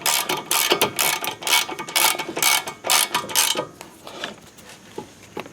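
A ratchet wrench clicks rapidly in repeated bursts while brake bolts are tightened on a 2005 Honda Accord's front brakes, close and crisp, then fades into quiet handling near the end with no talking.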